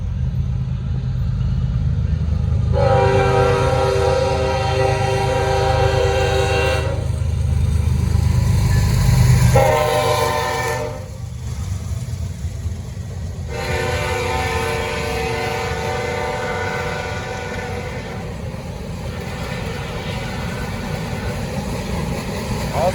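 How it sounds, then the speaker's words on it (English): A Norfolk Southern freight train passing on the Charlotte District, with a loud rumbling roll of rail cars and several long blasts of the horn sounding in separate bursts, close and powerful. "First train, 154."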